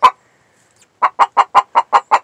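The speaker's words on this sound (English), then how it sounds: "Who's doing all that squawking?" A Black Copper Marans hen squawks in a quick run of about eight loud, evenly spaced clucking calls, following one isolated squawk and a short pause.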